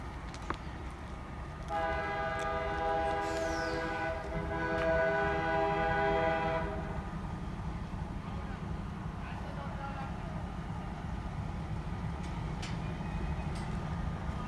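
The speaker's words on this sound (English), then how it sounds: "this is the passenger train" Passenger train passing near Linstead, Jamaica, with a loud sustained horn blast for several seconds over the continuous rumble of the cars, someone talking nearby.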